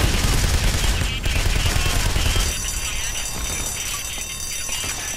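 Heavy C4 detonation in the Payday The Heist video game, a loud dense burst of explosive noise with rumble that lasts about two and a half seconds, then a quieter lingering roar with high ringing tones.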